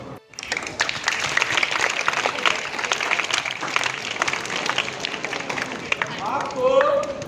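An audience claps together at a school welcome ceremony for a State Award, a dense, steady patter of many hands that keeps going for several seconds, with voices mixed into the noise.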